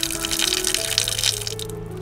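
Water runs steadily from an 1847 drinking fountain in Alupka, Crimea, a close, continuous splashing flow with a faint tonal hum underneath.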